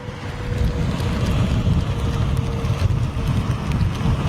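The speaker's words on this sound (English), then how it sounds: "could probably hear the battering of the rain" Heavy rain batters a vehicle at London Heathrow in a dense, steady wash of noise with a low rumble, constant and close throughout, with no talk.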